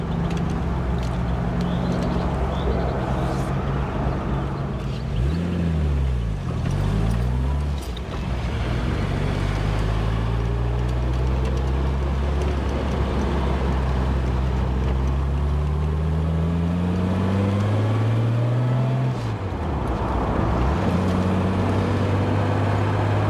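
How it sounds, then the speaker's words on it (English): A 1960s convertible drives along open-topped with loud, constant wind roar over a droning engine that swells and dips through gear changes, heard close throughout without any talking. "Driving along in a 60s car or an earlier car is called wind in the hair motoring for a reason"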